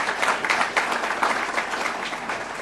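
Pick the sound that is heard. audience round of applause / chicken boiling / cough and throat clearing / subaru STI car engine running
audience round of applause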